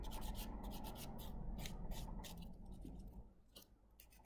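A nail buffer rubbing the top coat off gel polish or shellac nails: steady close scratchy strokes in a continuous rhythm, easing briefly near the end before resuming.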